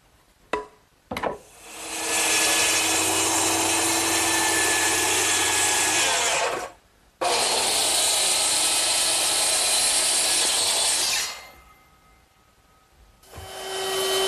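A power saw makes 45-degree angle cuts across a 1x12 pine board for sandbox seats, with two long, loud sustained cutting passes separated by a brief pause and a third cut starting at the end, plus short bursts at the start.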